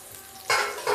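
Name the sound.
onion and green chili frying with garlic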